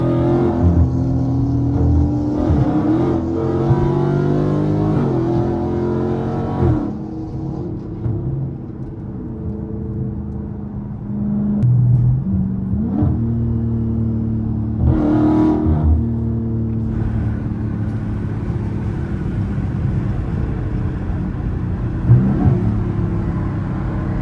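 A straight-piped Dodge Scat Pack with no catalytic converters idles and revs in a city downtown, its engine rising and falling through several loud, rasping throttle blips over a constant deep rumble.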